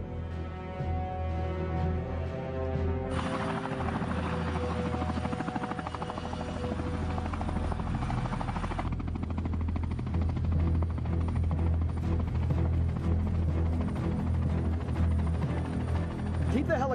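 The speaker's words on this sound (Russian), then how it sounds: "Держи вертолет точно над буйками." A helicopter hovers over the shoreline near a reef in a scene from the 2020 film Typhoon, its rotor and engine drone loud and continuous throughout, with a steady thrumming beat and a hum that shifts partway through.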